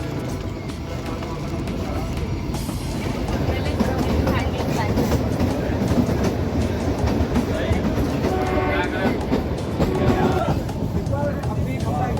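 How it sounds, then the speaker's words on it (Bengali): The Kalka-Shimla mountain toy train rumbles and rattles steadily along the narrow-gauge rails, with rhythmic clatter and wheel noise filling the scene while people talk over it. "ট্রেনে করে সফর করছি"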